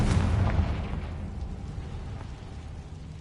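Confringo fire-blast spell exploding in Hogwarts Legacy, a heavy booming burst at the start that rolls off into a fading low rumble over about three seconds.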